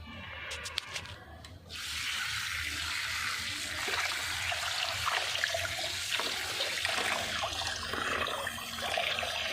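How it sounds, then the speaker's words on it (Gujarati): A spray of water rinses a batch of grapes, starting with a brief clatter and then settling into a steady, rushing splash that continues close by without talk. "હજી ધોવાની નહીં, હજી બીજું ફુવારો માર."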